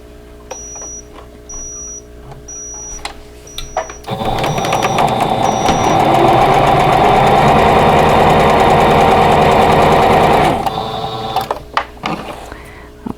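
Sewing machine stitching corner to corner across a square laid on a rectangle for a tulip vintage quilt block, a steady run of about six seconds after soft handling clicks and beeps, close and without talk.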